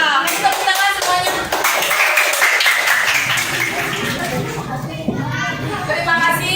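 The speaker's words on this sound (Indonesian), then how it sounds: "kasih tepuk tangan semuanya" A class of students clapping hands together in a classroom lesson, a steady, close round of clapping mixed with voices and chatter throughout.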